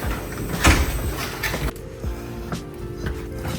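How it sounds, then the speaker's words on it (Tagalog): A heavy hotel room door in Kaohsiung swings open with a loud thud and creaking latch clatter up front, followed by quieter mechanical knocks and a softer settling as it closes. "Bigat yung pinto."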